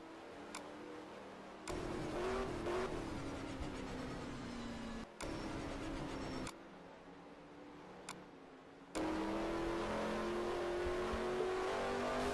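Race cars lapping a track, among them a number 25 Chevrolet, with a steady engine roar at a distance that swells and drops in sections, pitch rising as cars accelerate past, no voices.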